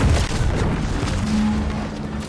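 A heavy explosion in the video game The Outer Worlds 2, a loud booming rumble that fills the whole clip with dense low-end roar and debris-like crackle, with no voices over it.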